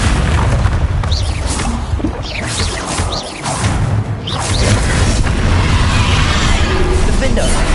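A Confringo fire spell explosion in the Hogwarts Legacy video game: loud, dense booming blasts and crackling bursts that run continuously amid combat noise, with no talk over them.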